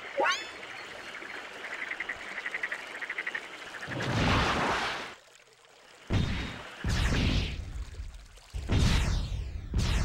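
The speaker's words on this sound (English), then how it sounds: "So the spring is flowing, and we're going to just fill it up." Water from a flowing spring pours and fills up in the Steambot Chronicles game, a loud splashing gush that runs in several bursts with short pauses between, alongside bright chirpy game tones.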